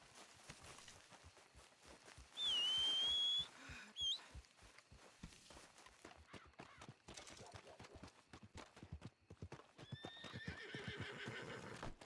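A horse in the video game Red Dead Redemption 2 gives a loud, high whinny, with steady clip-clop hoofbeats throughout and a second fainter neigh later; someone talks intermittently.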